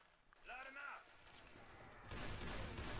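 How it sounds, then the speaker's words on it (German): Gunfire in the zombie shooter Left 4 Dead 2, heard as a continuous dense rattle of game gunshots that swells louder in the final second, with players talking over it. "die Schüsse werden immer leiser, wenn du Adrenalin genommen hast"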